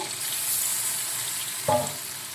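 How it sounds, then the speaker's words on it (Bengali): Spices with ginger paste, garlic paste and slit green chilies sauté in hot oil for a ghugni, giving a steady bright sizzle with a short louder burst of stirring near the end. "এবার আমি ভালো করে কষিয়ে নেব মশলাগুলোকে"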